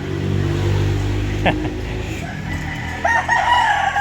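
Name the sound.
rooster crowing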